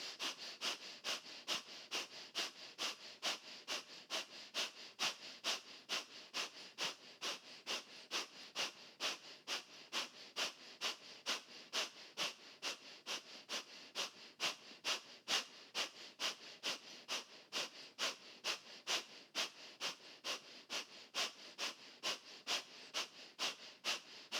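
Rapid rhythmic breathwork breathing in a beginner-friendly refreshing session: a steady, fast train of sharp sniffing inhales and exhales, about two per second, close and even in loudness, with no talking.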